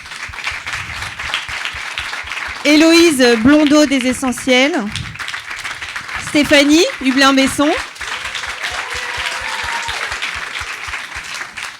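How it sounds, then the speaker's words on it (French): A conference audience applauds the speakers, continuous clapping running throughout while a presenter announces names over it in a clear, close voice. "je pense qu'on peut l'applaudir"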